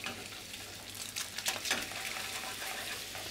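Monkfish sizzles in a non-stick pan with sunflower oil and a little butter, a steady hiss with a few louder crackling bursts midway, close by with no talk.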